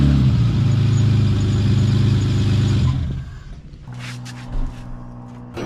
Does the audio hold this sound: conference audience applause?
no